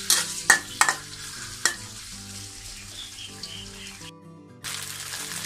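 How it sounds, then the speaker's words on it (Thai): Tofu fries in a pan with a soft continuous sizzle, punctuated early by a few sharp utensil clacks, then briefly drops out before the frying resumes; no talking. "ทอดให้พอเหลืองก่อนนะคะเพราะว่าเต้าหู้เนี่ยเวลามัน ไม่มันจะไม่ได้ขาวๆแบบเนี้ยมันจะทอดให้สุ"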